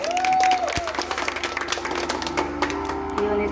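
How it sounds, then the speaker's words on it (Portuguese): Guests at a surprise birthday celebration for a husband clap in a brisk, scattered round of applause. A brief voiced cheer comes at the start, and light chatter runs underneath. "Uma salva de palmas, pessoal."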